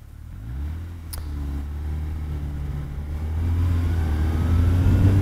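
Yamaha XJR1300 motorcycle engine pulling smoothly from low revs without knocking, its rumble rising and growing louder over a few seconds, with a brief click early on.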